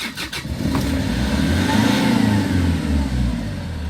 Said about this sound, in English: Then switch the engine.